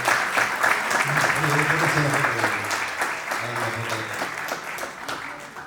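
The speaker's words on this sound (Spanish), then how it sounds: "Un aplauso para Juli, para toda la organización también." An audience at a vocational training event at UTN La Plata breaks into sustained applause that fades slowly, and a voice speaks over the clapping.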